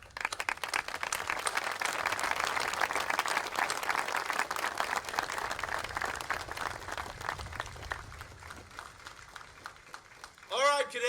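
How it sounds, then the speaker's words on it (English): Applause from a cadet audience at an Army summer advanced camp graduation ceremony, a dense sustained wash of clapping for about ten seconds that thins near the end, with voices mixed in underneath. "I think you all deserve a great round of applause."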